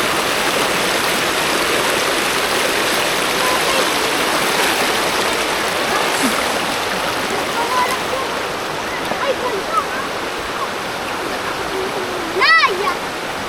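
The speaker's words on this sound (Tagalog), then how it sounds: "Sarap naman maligo dito, ang lamig ng tubig." Cold stream water where people bathe, rushing and splashing steadily throughout, with voices talking and calling over the flow and a brief sharp sound near the end.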